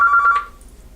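A telephone rings once with a short electronic trill, loud and close, then fades into quiet.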